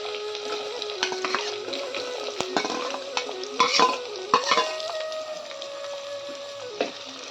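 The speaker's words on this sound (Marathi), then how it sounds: "तेल गरम झाले यात टाकूया आपण आता कांदा" Onion added to hot oil with garlic in a home kitchen pan fries with a continuous sizzle and occasional stirring knocks, moderately loud and close, with a steady tonal hum running underneath.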